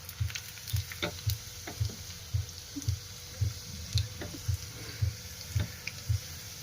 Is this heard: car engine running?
no